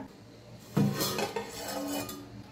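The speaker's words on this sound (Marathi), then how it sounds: "झाकण काढून बघूया।" A metal lid lifts off a pot in which a semolina cake has been baking on the stove, giving a clanking scrape and a few light metallic clinks up close, with no voices.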